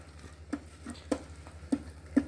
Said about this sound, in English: You want to make sure the mixture fries really well.